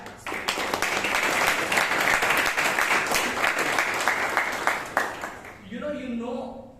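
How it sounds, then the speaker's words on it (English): An audience at a Toastmasters club meeting in Bangalore claps after a speech, dense sustained applause that fades out near the end as a voice begins speaking. "let's give a round of applause for that speech"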